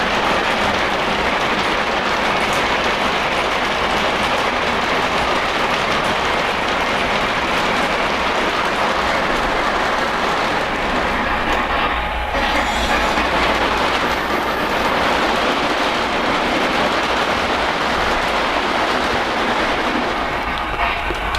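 A LionChief Plus 2.0 Polar Express O-gauge model locomotive runs steadily on its track, with a continuous rolling rumble and soft rhythmic clicking of the wheels throughout, dipping briefly partway through.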